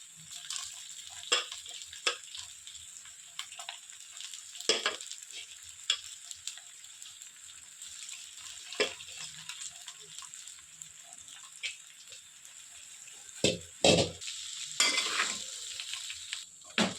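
Cooked rice being stirred into poha in a hot pan, a continuous soft sizzle under repeated close scrapes and clinks of a spoon against the metal, steady and alone without talk.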